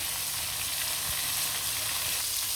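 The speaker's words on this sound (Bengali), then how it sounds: "মাছগুলো কিন্তু খুব সুন্দরভাবে ভাজা ভাজা হয়ে গেছে" River snakehead (shol) fish fry in hot oil in a pan, a steady close sizzle and crackle with light spattering, no voices.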